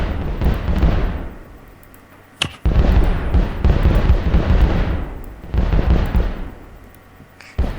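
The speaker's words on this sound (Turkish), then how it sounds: "patlama sesi geliyor. Nereden geliyor lan o?" Rumbling blasts of mass TNT explosions in a video game roll and crackle continuously, loud and full, with a sharp crack partway through.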